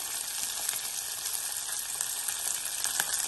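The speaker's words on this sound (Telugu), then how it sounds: "పచ్చిమిరపకాయలని బాగా వేయించుకోవాలి" Green chillies fry in oil in a pan with a steady, dense sizzle and crackle that carries on without a break, close and even, and no one speaks over it.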